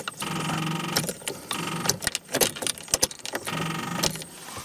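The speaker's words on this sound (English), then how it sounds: "The car is not starting." A car that will not start, fitted with a solenoid that clicks on low voltage, gives repeated bursts of mechanical cranking and clicking that start and stop in an uneven rhythm, heard close up with no talk.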